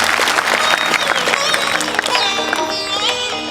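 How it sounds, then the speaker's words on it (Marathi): An audience claps and cheers at a Krishna Leela stage performance, a loud burst of crowd applause that fades slightly as a few voices rise over it. "सगळ्यांनी एकदा सुंदर अशा रीतीने पात्रासाठी मनापासून टाळ्या द्यायच्या आहे."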